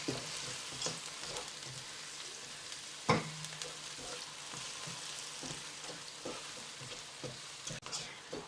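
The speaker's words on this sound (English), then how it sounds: "Love the sound of the sizzling." Onion and garlic sizzle steadily in hot oil in a wok for stir-fried Hokkien noodles, a continuous close frying hiss with occasional sharper crackles and one louder clatter partway through, no speech.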